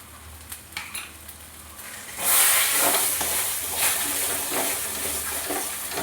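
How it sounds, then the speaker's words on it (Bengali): A mashed taro mixture is stirred in a hot pan until it dries. Light scrapes come first, then a steady hissing sizzle swells in and continues under repeated stirring strokes. "এটাকে ভালো করে নেড়ে নেড়ে এত শুকনো শুকনো করে ফেলতে হবে"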